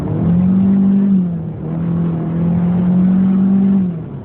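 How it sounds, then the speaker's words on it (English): A 2020 Hyundai Sonata engine revs close and loud through paddle-shift downshifts, its steady drone rising, dipping briefly around the middle shift, then climbing and holding again with no talking. "Let's go ahead and just hit the paddle shifters. That puts you in paddle shift mode, and let's downshift."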